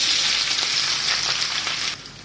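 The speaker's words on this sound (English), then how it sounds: "So we are frying our onion." Sliced onion sizzles loudly in hot oil, fried as a garnish for Arabic-style chicken biryani, a bright, crackling, continuous hiss that eases slightly near the end.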